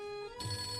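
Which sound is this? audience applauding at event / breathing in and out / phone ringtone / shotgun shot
phone ringtone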